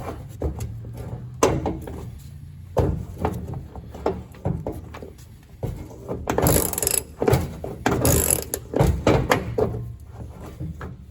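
A hand ratchet loosens bolts on the gas tank of a 1967 Cadillac, giving close, irregular clicking bursts mixed with clanks and metallic knocks.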